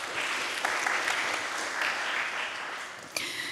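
Audience applause for sign language interpreters at a literary festival event in Sopot, a steady, moderately loud wash of clapping from a crowd, with a sharper clap near the end.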